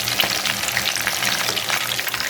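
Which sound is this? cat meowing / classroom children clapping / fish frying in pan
fish frying in pan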